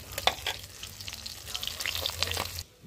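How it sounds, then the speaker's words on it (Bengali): Sighting fish frying in hot oil for a mustard curry, giving a steady close crackling sizzle with small pops throughout, then cutting off abruptly near the end. "তো প্রায় ভাজা হয়ে গেছে মাছটা"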